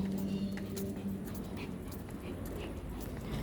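A dog whimpers and yips softly near another dog amid some background noise and movement, with a brief high whine near the start.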